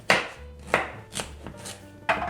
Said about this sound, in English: I'll just chop the celery in the middle, so it will be easier to use it in the juicer.